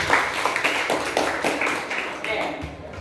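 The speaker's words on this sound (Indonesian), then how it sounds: "Jadi semua beri tepuk tangan buat temenmu." A classroom of students claps for a classmate, a dense, steady patter of many hands close by, running the whole time with some talk mixed in.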